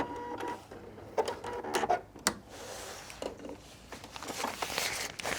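A sewing machine back-stitching at the end of a seam on a drawstring backpack gives faint, uneven bursts of mechanical whirring and ticking with fabric rustles between them.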